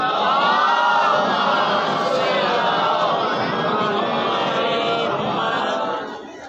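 A large crowd at a 17 Rabi ul Awal religious celebration loudly chants the salawat blessing in unison, many voices blending into one steady roar that holds for several seconds, then fades slightly at the end.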